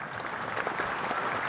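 A short burst of recorded applause plays as a sound effect on a podcast, with even, moderately faint crowd clapping.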